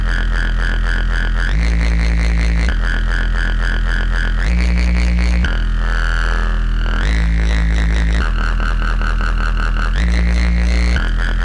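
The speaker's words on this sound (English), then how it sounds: "It's a naughty Reese bass" A gritty, detuned Reese bass synth drones loudly and continuously, its low notes shifting in steps with a warbling, phasing movement, no voices present.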